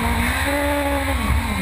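A Formula Gulf 1000 race car slides after contact, losing its front wing and spinning almost a full 360, tires squealing in a sustained high whine over the loud engine note, close and continuous.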